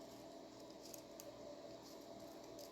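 Scissors cutting out paper craft pieces, quiet repeated snips and faint paper rustling close by, soft and continuous with no talking.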